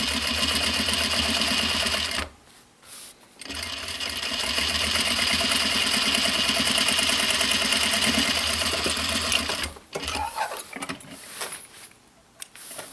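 A sewing machine topstitches thick recycled denim for a simple pouch, its motor whirring steadily and loud for long runs, broken by two brief pauses and a final stretch of shorter stop-start bursts.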